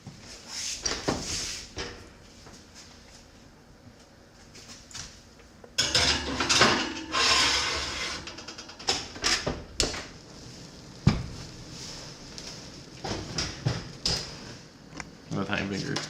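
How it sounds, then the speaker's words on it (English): A peach pie made with a Pillsbury crust goes into a home oven: scattered clunks, rattles and a door opening and closing, with people talking throughout. "So let's go put this in the oven."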